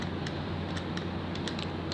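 Code typed on a computer keyboard during a programming lesson on while loops: a quick run of scattered, fairly close key clicks over a steady low background hum, with no talking.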